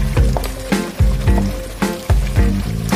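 Onion, cashew and almond paste hits hot oil in a pan while cooking Mughlai chicken Changezi, giving a loud, close sizzle and spatter with repeated bursts as the paste is stirred; no talking.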